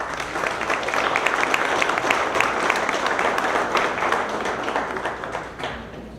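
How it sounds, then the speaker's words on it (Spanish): Sustained applause from an audience at a formal Mexican government book-launch ceremony, steady dense clapping at close range that holds throughout and fades slightly at the end. "Brindémosles un fuerte aplauso."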